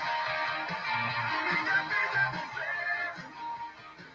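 Guitar plays the power-chord chorus of a song, with a steady strummed rhythm that continues for the whole passage, close and even in level, with no talking.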